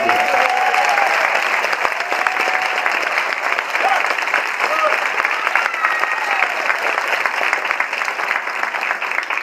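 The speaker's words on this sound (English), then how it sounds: "So I want you guys to give them a big round of applause." A large audience applauds a school donor at Whitehaven High School's academic achievement celebration for the Class of 2015, a loud, dense, steady wash of clapping that fills the whole stretch, with some crowd voices mixed in.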